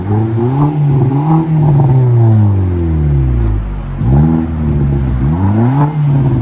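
A 2017 Nissan Juke Nismo turbo with a Flowmaster Flow FX exhaust revs loud and close in repeated rising and falling throttle blips, with a deep droning exhaust tone.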